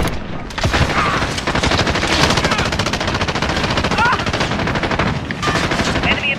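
Light machine gun fire in the video game Modern Warfare, a loud sustained rapid automatic burst running almost without pause, with brief voices over the shooting.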